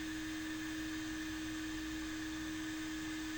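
An RF4 RF-H2 hot air rework station blows at full airflow, giving a steady, even rush of air with a constant high whine, quiet and unbroken throughout.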